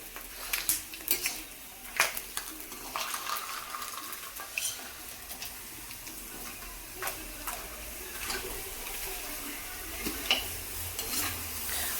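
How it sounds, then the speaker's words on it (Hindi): Food sizzles in hot oil in a pan on an Indian home stove, a continuous bubbling hiss broken by occasional clinks and scrapes of a utensil against the pan. "ये देखो ये फ्राई होते जाएंगे और ऊपर आते जाएंगे"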